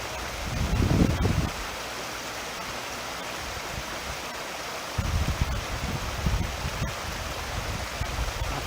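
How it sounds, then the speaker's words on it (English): Steady broadband rush of water tumbling and cascading down a ravine, loud and continuous, with low gusty rumbles swelling at moments. "Water, nature, cascading down."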